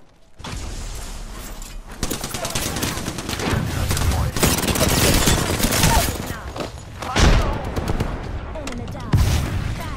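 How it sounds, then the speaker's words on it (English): Gunfire from the video game Apex Legends: dense, loud bursts of automatic weapon fire and impacts roll almost continuously, with sharp peaks near the end and faint voice lines mixed in. "Taking fire. They're shooting at me?"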